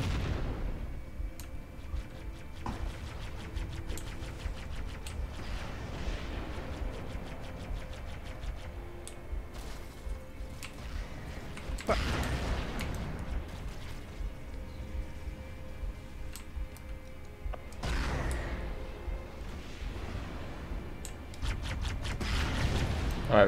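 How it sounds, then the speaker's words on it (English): Explosions from a bombing run in Halo, several heavy booms spread across a long stretch, with two stronger blasts standing out over a steady rumble and scattered clicks. "Bombing run."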